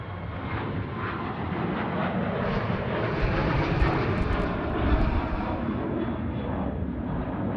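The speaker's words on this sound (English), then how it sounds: "Corner 737 now, departing runway 34 right." A Boeing 737 takes off from runway 34 right at Sydney Airport with a steady, loud jet engine roar that holds throughout, broad and rumbling with some wind buffeting.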